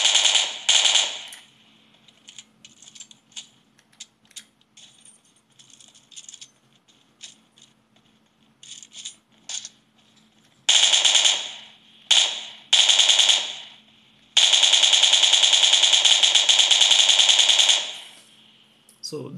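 Gunfire in the PUBG video game while the player moves, played on a mobile device with a W10 gamepad: loud rattling bursts of rapid automatic fire, short at first and then long sustained volleys, with quiet stretches between.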